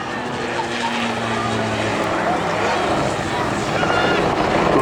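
A Calidus autogyro flies at the Rhyl Air Show, its rotor and propeller making a continuous broad engine drone. A commentator talks over the sound throughout.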